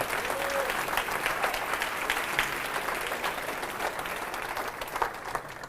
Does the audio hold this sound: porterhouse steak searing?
no